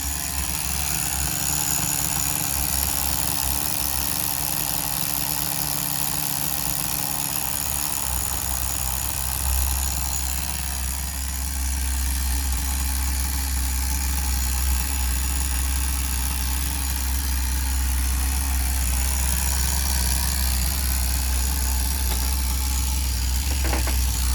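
A Tamiya TGS-R nitro engine idles during run-in, a continuous close buzzing drone that holds steady for over twenty seconds, rising and falling slightly in pitch, with no talk.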